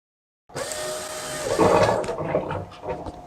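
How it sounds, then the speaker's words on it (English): An electric pump switches on and pushes citric acid solution through a rusty car heater core, giving a sudden, steady gushing roar of flowing liquid with churning, gurgling surges, close and fairly loud. "I turned the pump on, and the liquid is flowing."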